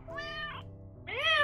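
A cat in the video game Children of Silentown gives two clear, close meows, the second rising and louder, with no talk over them.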